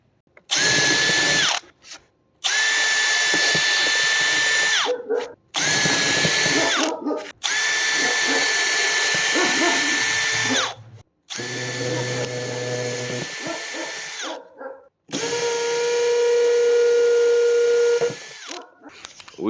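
A Makita hammer drill drills in repeated loud bursts of a few seconds each, its high whining motor and rattling hammer action stopping and starting with short silent gaps between runs.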